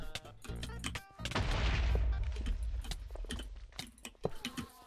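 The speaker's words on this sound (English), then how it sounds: "I can literally hear you mashing your keyboard as hard as you can" Keyboard keys mashed hard during a Hypixel Bedwars game, heard as rapid, sharp clicks scattered throughout, mixed with a loud burst of game effects in the middle.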